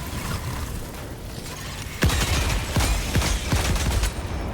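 Sentry turret gunfire in a video game: after two seconds of low rumble, a loud burst of rapid mechanical shots begins, with sharp cracks repeating over a dense, noisy battle background.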